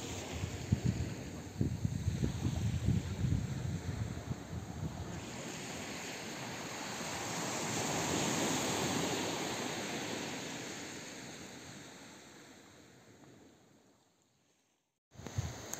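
Loud ocean waves crash and wash ashore at high tide on Madban beach in Konkan, a heavy continuous surf roar with wind buffeting the microphone before it cuts out abruptly near the end.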